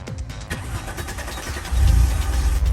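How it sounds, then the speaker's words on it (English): An Alfa Romeo 164 cranks and starts, with a few choppy starter-like pulses and then a louder, steady engine rumble that rises and holds near the listener. "So as long as it's turning, then you can go and start the car."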